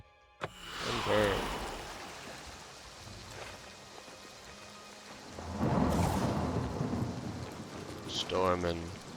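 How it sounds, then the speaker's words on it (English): Stormy weather in the video game Oblivion: steady rain with rumbling thunder rolls swelling twice, plus brief game sound effects, heard without speech. "Storm and rain."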